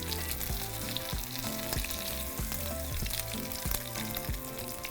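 Tacos dorados fry in hot oil with a steady sizzle throughout, partly masked by loud rhythmic music playing over it.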